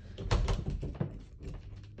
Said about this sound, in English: These doors don't want to shut all the way.